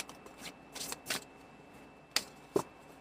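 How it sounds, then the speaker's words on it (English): A tarot card deck being shuffled, giving several soft papery riffling bursts spaced irregularly with a couple of sharper snaps near the end, fairly quiet and close, with no talking. "So let's shuffle this deck so that we know we get clear and clear."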